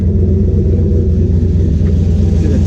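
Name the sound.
turbo Chevrolet C10 truck engine settling into idle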